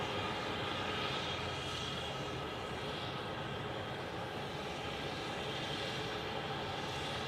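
A Starlux airliner at an airport gives off a steady, distant jet roar, a broad continuous rumble that stays even throughout with no voices.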